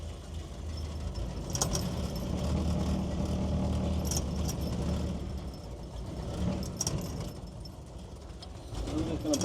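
A vehicle backing out, its engine rumbling low and steady at idle with faint clicks and bird calls around it.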